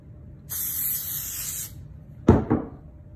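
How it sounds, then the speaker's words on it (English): Repositionable spray adhesive sprayed onto a cloth for a homemade tack cloth: a steady close hiss of about a second, then a couple of short bumps as the cloth is handled. "Spray it again."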